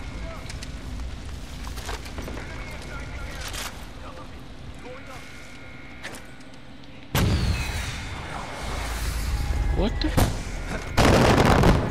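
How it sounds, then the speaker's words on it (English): Artillery strike explosions in the game Far Cry 4, heavy booming blasts and rumbling impacts that swell louder in the second half, with speech mixed in over the din. "that artillery strike shit. I knew something was gonna hit me."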